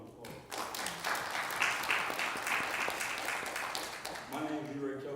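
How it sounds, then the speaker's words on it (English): An audience at a community meeting in Riviera Beach, Florida breaks into sustained applause that swells after a brief pause and holds steady, then tapers as a voice begins speaking near the end. "So let's give them a round of applause."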